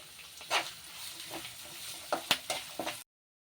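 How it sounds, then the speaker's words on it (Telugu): Onions with curry leaves frying in oil in a pan for Rambha chicken give a close, steady sizzle punctuated by several sharp spatula scrapes and taps, then cut off abruptly. "ఆనియన్స్ కొద్దిగా ఫ్రై అవ్వాలి."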